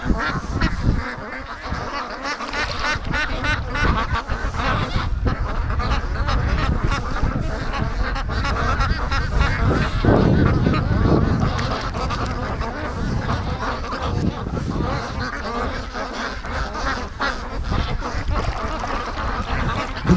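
A flock of free-range ducks chased across the water by a kayak, loud and close, with constant overlapping quacks and honks over the splash and rush of water.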